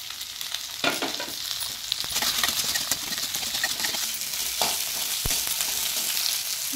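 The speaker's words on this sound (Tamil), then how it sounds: "சின்ன வெங்காயம் நல்லா வணங்கி வர வரைக்கும் வதக்கலாம். கூடவே இந்த பூண்டு வரமிளகாயும் சேர்த்துக்கலாம்." Shallots, garlic and dried red chilies fry in oil in a clay pot, a steady close sizzle with occasional stirring scrapes throughout.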